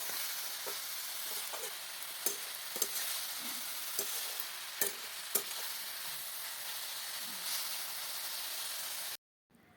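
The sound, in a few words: frying food on a stove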